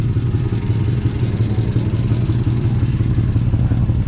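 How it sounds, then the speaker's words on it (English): A Mercedes-Benz W140 engine fitted with Ford fuel injectors idles close by with a leaking exhaust, giving a steady low rumble and a fast puffing, ticking pulse. "That exhaust leak"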